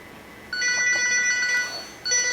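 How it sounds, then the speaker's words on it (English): A mobile phone ringtone plays as a loud, bright repeating electronic melody. It starts about half a second in, pauses briefly near the two-second mark, then resumes, with no talking over it. "You're going to have to turn your phone off when we shoot."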